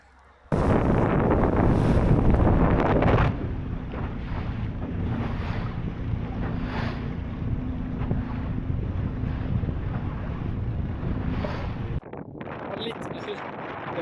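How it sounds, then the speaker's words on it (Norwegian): Steady wind blustering against the microphone on a lake during a fishing trip from a small boat, a loud broad rush with a stronger gust at the start and a faint engine-like hum underneath. "Det var litt mer vind enn hva vi hadde håpet på i dag."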